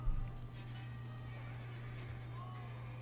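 Horses in Age of Empires IV give brief, faint neighs over a steady low game hum, with a soft thud at the start and no clear galloping rhythm.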